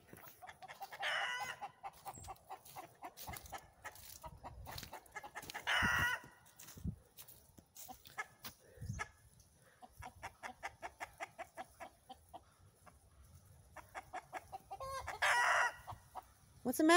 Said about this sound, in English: What is going on with these chickens?